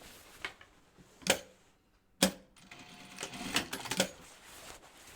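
A home sewing machine back stitching on a vest comes in short bursts of rapid mechanical clatter, separated by sharp isolated clunks and quiet gaps. The stitching is close and fairly faint.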